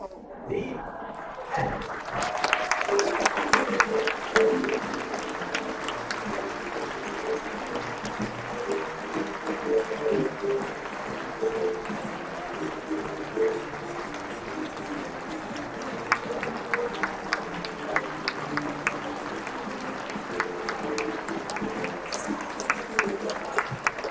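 An audience applauds a high school theatre group's performance at a gala event, with clapping building quickly and then continuing at a steady level in a large room. Voices can be heard talking over the applause.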